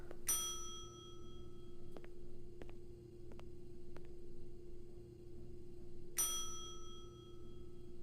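A hotel desk bell in the Blade Runner video game rings twice, bright and metallic, each strike ringing out over a quiet background hum with faint clicks between.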